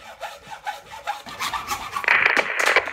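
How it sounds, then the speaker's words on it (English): A hacksaw cuts through 1¼-inch PVC pipe in quick rhythmic back-and-forth strokes, a close raspy scraping that grows brighter and harsher toward the end. "mark it, and cut it with a hacksaw."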